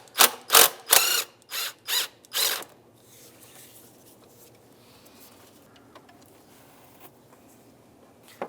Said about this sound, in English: We're going to remove the top bolt connecting it to the throttle body itself.